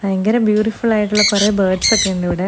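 Harsh bird squawks from an aviary burst out a few times over a person talking steadily, loud and close, with chattering calls in the background.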